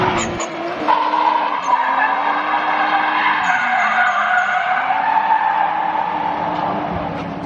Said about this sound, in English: The 350Z convertible, probably the ultimate street drift car right here.